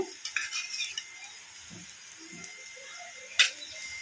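A spoon stirs vinegar and sauces into egg fried rice, giving soft scraping and a few light metal clinks against the pan, with one sharper clatter near the end; quiet and close.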